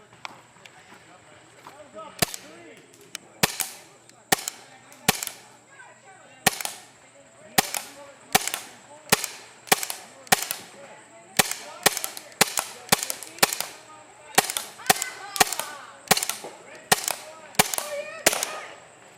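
A Tiberius T9 paintball marker fed from its longbow system fires about twenty sharp pops in a quick, slightly uneven rhythm, loud and close, with voices talking between shots.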